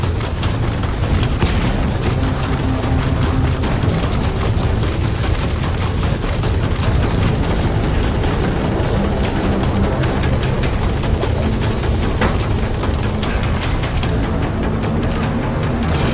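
A support helicopter arrives in Metal Gear Solid V: The Phantom Pain, its rotor thumping loud and continuous over a dense roar of wind and engine noise, with no talk.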